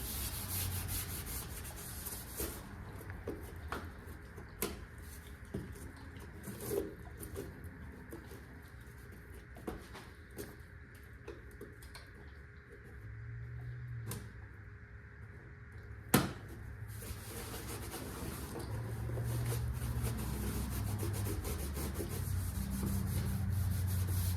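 Parts of a modified 351 engine are scuffed by hand before painting, with soft, faint rubbing and scraping strokes and a few sharp knocks spread across a quiet background.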